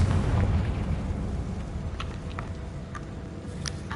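Confringo spell explosion in the Hogwarts Legacy video game, a deep booming burst that fades into a rumbling tail, close and fairly loud, with a few scattered crackles and no speech.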